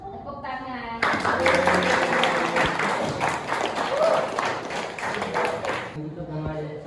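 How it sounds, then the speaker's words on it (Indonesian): Group applause from a classroom audience after a traditional Indang dance demonstration, a dense burst of clapping lasting several seconds, with a voice speaking before and after it. "tepuk tangan untuk kelompok 1"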